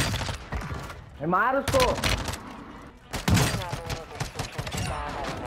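Rapid gunfire bursts from a Warzone 2 match rattle under excited voices talking over each other, with loud clustered shots and a dense fusillade near the end.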